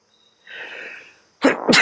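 A sneeze in the middle of a yin yoga session: a soft, drawn-out hissing inhale, then a sharp, loud, close double burst at the end.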